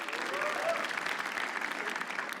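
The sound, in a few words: audience applause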